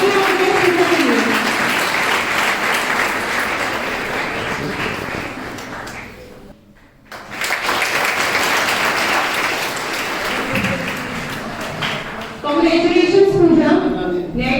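An audience applauds a student on stage at a college spring festival, a loud sustained roar of clapping that briefly dips almost to silence midway, then resumes and swells again near the end.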